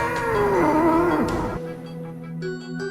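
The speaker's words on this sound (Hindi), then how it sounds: "चुड़ैल के ऐसा कहते ही राधा बिल्ली बन गई" A cat gives a long, loud, drawn-out meow that falls in pitch, followed by softer, higher mewing sounds, close and clear with no talking.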